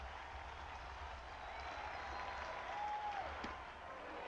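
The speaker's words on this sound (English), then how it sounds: "that certainly was a standing ovation for Vaughn" A Fenway Park crowd at a Seattle at Boston baseball game rises in a sustained standing ovation for a batter's first at-bat of the season, heard as distant, steady applause and cheering.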